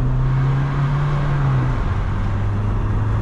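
A 1994 VW Passat B4 with a 1.9 TDI 90 hp diesel engine accelerating hard in second gear: a loud, close, rising engine drone with a steady rumble that shifts pitch partway through.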